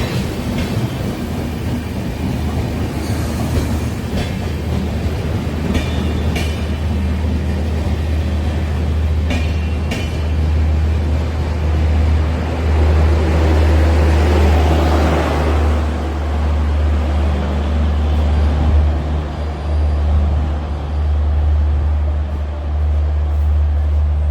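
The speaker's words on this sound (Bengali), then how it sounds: "কলকাতা আগ্রা ক্যান্টনমেন্ট এক্সপ্রেস বর্ধমান ছেড়ে বেরিয়ে যাচ্ছে" The Kolkata Agra Cantonment Express pulls out of Bardhaman station with a loud, continuous low rumble of wheels and carriages, occasional clanks and a steady mechanical drone throughout.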